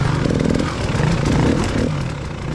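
Dirt bikes, including a Beta 350RR and a Yamaha, revving through wooded enduro trails, with a loud close engine drone that rises and shifts in pitch, continuous and unbroken, no voices.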